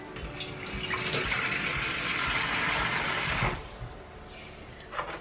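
Water runs from a tap for heating to make mint tea, a steady full rush lasting about three and a half seconds before cutting off, followed by quieter handling and a small splash.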